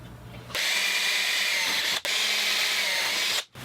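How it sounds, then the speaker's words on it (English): Power drill boring holes in a metal fence post, a close steady high whine that starts abruptly, briefly dips once, then runs on before cutting out. "So I'll try drilling some new holes in this."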